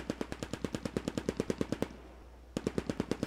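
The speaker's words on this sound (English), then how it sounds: "Where's that machine gun?" Sustained bursts of machine gun fire in the Post Scriptum war game, battle for Arnhem, a rapid loud rhythmic string of shots that pauses for about a second, then resumes.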